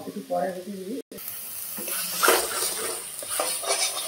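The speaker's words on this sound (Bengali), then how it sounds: "এরপরে সুন্দর করে এভাবে নাড়িয়ে নিচ্ছে যাতে মশলাটা ভালো করে মিক্সচার হয়" Chicken curry with spices sizzles in a pan while being stirred: a steady close frying hiss with scraping stir sounds, and a brief voice early on before a short cut.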